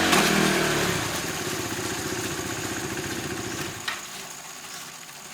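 A KTM RC 390 runs in gear on a paddock stand, the single-cylinder engine buzzing loudly and steadily with a throbbing pulse, then settling lower as it shifts through the gears, close up and with no talk.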